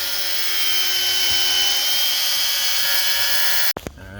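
Steady, sustained whine of a power cutting tool slicing through the emergency brake line on a 2000–2005 Buick LeSabre, running loud and close for several seconds before cutting off abruptly with a short metallic clatter.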